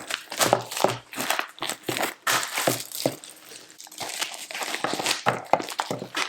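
Packaging being pulled open and torn by hand, with repeated sharp crinkling and crunching bursts in an uneven rhythm, close and fairly loud, with no talking.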